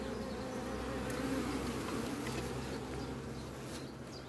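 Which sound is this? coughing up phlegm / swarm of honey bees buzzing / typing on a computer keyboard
swarm of honey bees buzzing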